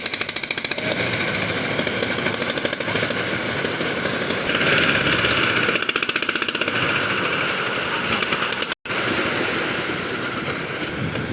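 A borewell drilling rig pounds near the sea in Vizag with a harsh, continuous rapid hammering that runs almost unbroken, loud and close, with one brief cutout near the end.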